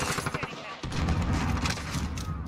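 Dragon's breath shotgun fire from the Firedrake legendary blueprint in Modern Warfare Season 2 gameplay, a dense burst of loud, close shots that rumble on with heavy low-end booms, layered under excited talk.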